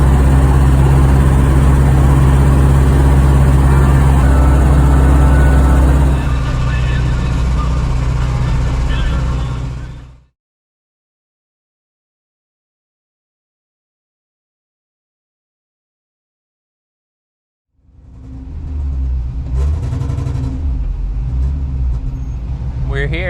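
A Chevrolet Caprice with a T56 manual transmission, leaking and smoking transmission fluid, cruising on a highway: steady loud road and engine drone with strong low rumble, cutting to silence midway, then resuming with the same drone.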